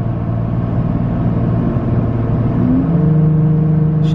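Inside a lifted 2020 Toyota Tacoma, the engine drones steadily and loudly, then its pitch drops cleanly as the transmission shifts up, with a continuous road rumble underneath.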